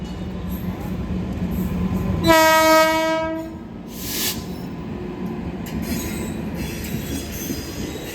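A train horn blasts loudly for about a second at a rail level crossing near Bolpur, with a train rumbling and passing through the crossing before and after it.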